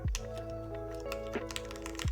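Quick, scattered keystrokes on a newly built Point65 custom mechanical keyboard, clicking steadily for about two seconds over a constant low tonal hum, with no voices.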